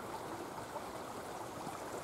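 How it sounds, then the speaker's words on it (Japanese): A babbling river beside a quiet one-room apartment near Tenri University, a steady soft wash of flowing water, faint and continuous with no breaks. "川の音聞こえてるかなと思うんですが、せせらいでますね"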